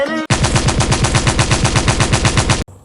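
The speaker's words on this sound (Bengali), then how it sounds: "গুলি শব্দ হয়েছে, গুলি শব্দ কোন থেকে আসছে রে?" A gunshot sound effect: a single rapid automatic burst of about twenty evenly spaced, loud shots, cutting off abruptly after roughly two and a half seconds.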